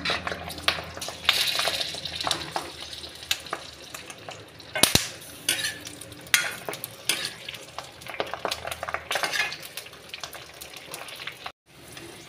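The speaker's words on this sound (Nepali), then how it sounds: "अब सफा गरेर राखिएको यो डल्ले खुर्सानीलाई चाहिँ हामी बिस्तारै यसमा फ्राई गर्छौँ" Dalle chilli peppers fry in a pan, a continuous sizzle broken by frequent scraping and stirring clatter, with one sharp knock midway and a brief drop near the end.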